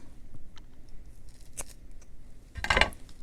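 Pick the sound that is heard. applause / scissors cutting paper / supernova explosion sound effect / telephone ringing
scissors cutting paper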